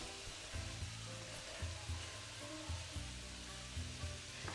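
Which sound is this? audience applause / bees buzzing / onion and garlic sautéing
onion and garlic sautéing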